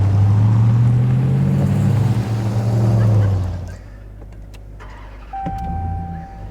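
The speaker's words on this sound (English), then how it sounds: "So this truck has a throaty exhaust note." Ram TRX pickup truck with a 702-horsepower engine, its low throaty exhaust rumbling loudly for about three seconds, then easing to a steady idle with a faint whine and a brief tone near the end.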